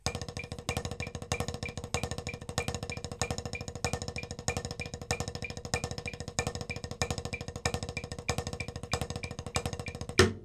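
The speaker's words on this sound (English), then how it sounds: "played the 4-note grouping as a single stroke roll and held that for a minute" A single stroke roll played on a drum in a steady four-note grouping, with a metronome set to 190 keeping time, giving a dense, fast, even stream of strokes that runs continuously without pause and stops abruptly at the end.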